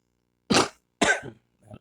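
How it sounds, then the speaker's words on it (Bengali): Two short, sharp coughs from a man close to the microphone, followed by a faint throat sound, in an otherwise quiet room. "কথা বলতে গিয়ে কাশি এসে গেল নিজের অজান্তে"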